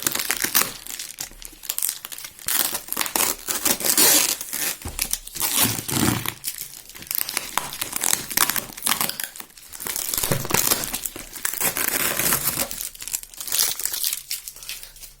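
Packing tape is ripped and peeled off the cardboard box of a Magcubic HY320 projector, with repeated loud crinkling tears and crunchy rustles coming in bursts close to the microphone and no talking.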